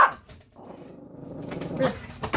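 A dog growls steadily at close range at a home doorway where it is being kept out. The low, rumbling growl lasts throughout and rises slightly toward the end, with no talking.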